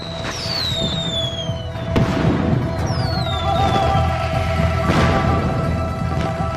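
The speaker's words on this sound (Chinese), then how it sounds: "母后，烟花真是不错。" Fireworks burst during a palace fireworks display, with several whistling rockets rising and loud crackling explosions in a steady, dense barrage.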